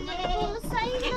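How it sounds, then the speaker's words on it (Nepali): Goats bleating as they are led out of their shed, several wavering cries overlapping at close range under a person speaking. "अब चाहिँ हामी बाख्रा झिक्दैछौँ"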